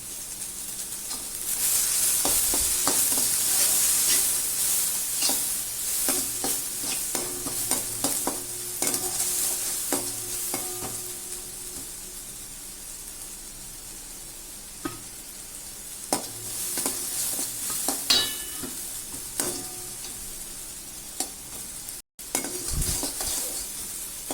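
Onions frying over a low flame in a pan with fennel seeds for egg masala curry, a steady close sizzle and hiss with frequent scraping stirs and light clinks of the utensil against the pan, no talking.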